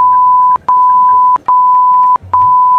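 Loud electronic tone of an airport security alarm, three long even beeps separated by brief gaps, close and alone.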